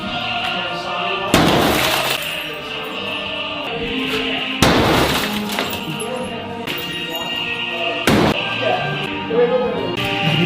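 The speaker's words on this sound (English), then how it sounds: "Glass flying everywhere." Glass breaks and shatters in several loud, close crashes spaced a few seconds apart, with tinkling debris between them and music and voices in the background.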